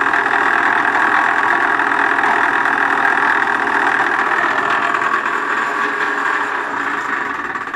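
A slightly off-center Nipkow disc on a mechanical televisor spins on a motor fed through a Variac, giving a loud, steady whirring hum with a faint rattle that holds even and close throughout.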